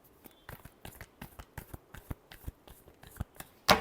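Tarot cards are shuffled by hand in a quick series of crisp, close riffling snaps in an irregular rhythm, ending in one louder clack, with no voice.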